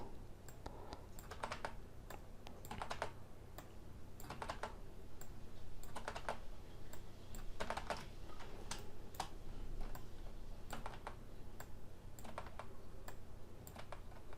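Steady clatter of computer keyboard keys, with sharper isolated presses like the Enter key, near and moderately loud across the whole stretch during Rhino 3D modelling work, with no talking.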